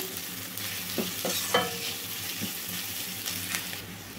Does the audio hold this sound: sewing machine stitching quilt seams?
no